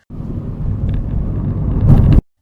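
A single vehicle rumbles past at close range, its low engine noise swelling steadily and then cutting off abruptly.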